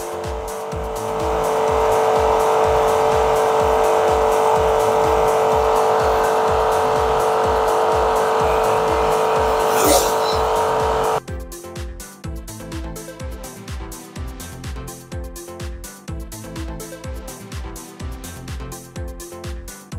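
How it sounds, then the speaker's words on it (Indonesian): Orion Superjet 100-SX jet cleaner pressure washer motor running steadily, a loud continuous hum and whine that drops abruptly partway through to a quieter pulsing mechanical chatter. "berapa kebisingan yang dihasilkan oleh mesin jet cleaner dari Orion ini"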